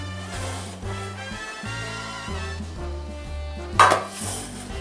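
A metal pan clatters and clinks as it is handled in a home kitchen, with a musical backdrop and a brief louder clang near the end.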